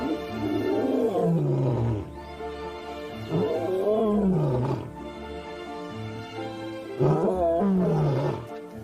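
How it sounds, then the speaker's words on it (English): A young lion in the wild lets out three deep, moaning roars, each rising and then falling away, with short pauses between them, moderately distant and alone. "Juveniles rarely roar, but when they do, it's often full of meaning"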